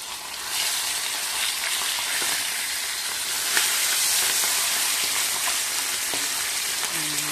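Malunggay leaves cooking in a boiling pot, a steady loud bubbling hiss with a few small clinks, no talking.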